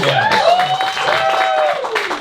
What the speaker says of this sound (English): You guys all deserve a round of applause for yourself.